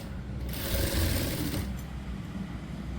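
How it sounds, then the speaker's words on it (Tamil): Sewing machine running steadily as it stitches a bias strip onto a blouse neckline, a close, continuous mechanical whir with no voices over it. "நம்ம ஃபுல்லாக இப்படி இந்த கிராஸில் இப்படி ஸ்டிச் பண்ணுங்கள்."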